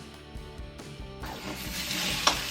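Smashed onion hits a hot frying pan and begins to sizzle, a soft crackling hiss that swells after a second of quieter clatter.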